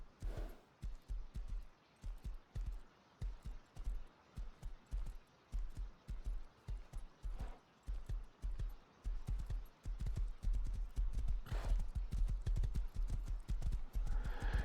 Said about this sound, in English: And here's our horse. Here is a horse.